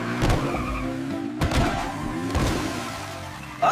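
A cartoon race car drifts, with a revving engine and squealing, skidding tires. The sound is close and loud, rising and falling over several seconds, with no voices.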